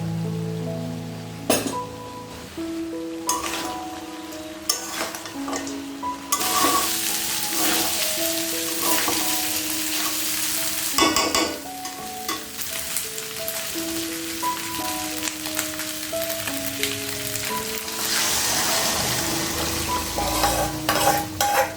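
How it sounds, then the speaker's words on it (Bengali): Pieces of meat fry in hot oil before the gravy is added for a Bengali home-style curry, giving a steady sizzle with occasional stirring scrapes beneath prominent melodic background music. "আগে মাংসগুলো একটু ভাজা ভাজা করে নিয়ে তারপর ঝোলটা দিয়ে দেব।"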